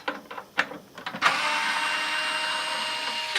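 Screws are removed from a Haitai Vistar 16 console, the South Korean TurboGrafx-16 system. A few close clicks and taps are followed by a steady, fairly loud whirring that continues to the end.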